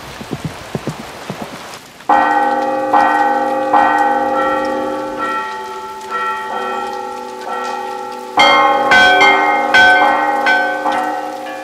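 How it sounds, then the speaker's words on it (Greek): Several church bells on Mount Athos ring together in overlapping, layered strikes, some small and bright, others deep, building into a loud, resonant peal after a soft patter at the start. "οι καμπάνες, μικρές και μεγάλες, μέσα από τις δοκιμές επιβεβαιώνουν την ετοιμότητά τους."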